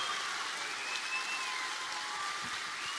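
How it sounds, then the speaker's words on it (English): Audience applause at a Stargate SG-1 fan convention in Perth, a steady wash of many hands clapping at a moderate, even level throughout, with no voices standing out. "Please give a big round of applause for Cliff, Ben, and Michael."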